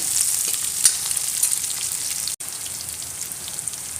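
Shallots and curry leaves fry in a pan with a steady, dense bright sizzle, sometimes lightly popping, with one very brief dropout midway and no talking.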